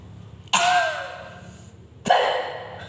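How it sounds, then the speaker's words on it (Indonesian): A person acts out a breathless cough: two strained, airy coughing bursts with a wheezy gasping tone, close and loud, separated by a quiet pause. "Batuk sesak nafas."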